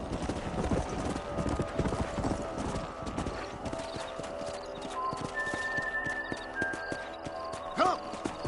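Horses galloping in a Red Dead video game, a continuous rapid clatter of hooves with a horse whinnying near the end, over a dense layer of music and ambience.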